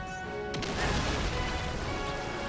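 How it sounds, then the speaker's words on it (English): Heavy crashing impact as the ground is smashed by the Kingmaker's blows in the video game Ni no Kuni II, a sudden burst settling into sustained rumbling debris over a steady game music drone. "The ground is being smashed by the Kingmaker's hits."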